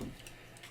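Metal transforming toy robot (Metal Cardbot Fleta Z) having its leg flipped round and clicked into place, a couple of small, quick plastic-metal ticks, close and faint.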